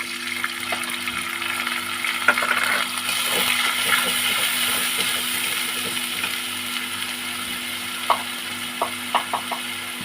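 Goat meat and onions frying and being stirred in a pan, a steady sizzle with scattered scraping clicks of the spoon, several sharper knocks near the end.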